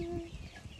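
A brief, low cluck from purebred chickens in a henhouse on a Honduran hacienda, a single soft call close by against faint background noise.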